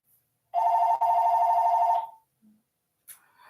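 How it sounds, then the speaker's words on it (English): A telephone rings once in a quiet room, a sustained electronic tone lasting about a second and a half with a brief click near its start, followed by silence and a faint tap. "Excuse me, the phone's ringing."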